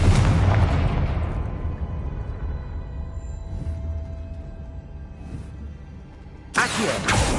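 A Confringo explosive spell from Hogwarts Legacy bursts loudly, its blast decaying into a long low rumble with a fainter tail, followed by a sharp second burst near the end.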